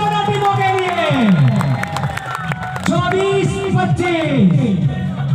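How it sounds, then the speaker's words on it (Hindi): Crowd at a village kabaddi match between Budhed and Khejad clapping and cheering, a continuous mass of applause with loud talk over it. "एक बार तालियां मार दो भाई दोनों टीमों के लिए"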